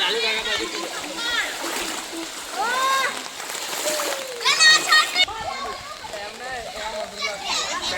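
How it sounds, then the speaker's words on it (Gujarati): Children splash and play loudly in village floodwater after heavy rain, with repeated splatters and excited shouting and chatter throughout, and a sharper burst of splashing midway. "જો નાના નાના છોકરાઓ બી કેટલી ખુશી મનાવી રહ્યા છે પાણીમાં"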